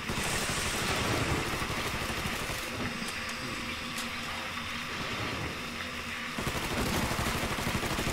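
Gunfire in the Mafia 3 video game at a funfair: a dense, continuous barrage of shots and crackling fire that holds steady throughout, loud and busy, with a brief dip in intensity midway before the full clatter returns.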